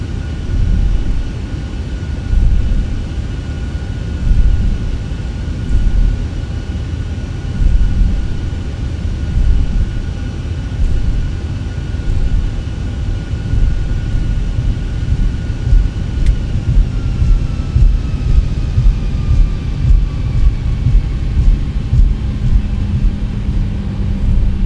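A Janet airliner taxis off the runway in the X-Plane 11 flight simulator, its engines a steady, droning hum with a faint whine held throughout, no voices.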